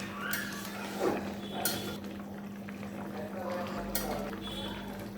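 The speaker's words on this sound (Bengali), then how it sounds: "শিং মাছটা আমি কড়াইতে ঢেলে দিছি" Stinging catfish poured into a wok sizzles and bubbles at moderate level, with a couple of metallic pan clinks along the way.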